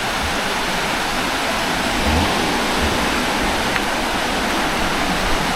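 A river flows somewhere below a village hidden in the forest, giving a continuous, fairly loud broadband rush that holds steady throughout.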